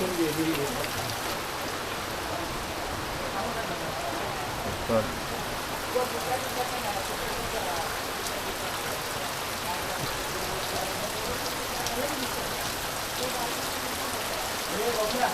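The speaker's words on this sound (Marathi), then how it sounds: "पाऊस खूप आहे जोरदार पाऊस" Heavy rain pours steadily in a Konkan village near Rajapur, a dense, even wash of drops hitting surfaces that continues unbroken for the whole stretch, with no voices heard.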